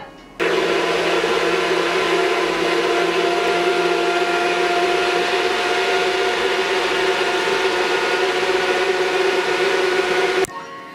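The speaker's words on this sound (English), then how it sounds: "We're gonna blend, blend," A blender roars at a loud, steady pitch for about ten seconds while blending fruit for lemonade, starting abruptly and cutting off at the end, with no talking.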